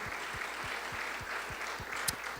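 A church congregation claps in a steady rhythm, a series of evenly spaced handclaps heard at moderate distance with no talk over it.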